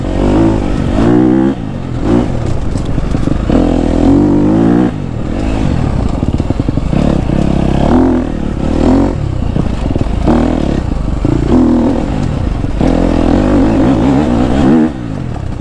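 A KTM 250 SXF dirt bike rides a summer forest trail, its engine loud and close, revving up and dropping back repeatedly through gear changes, with clattering and scraping over the ground and no voices.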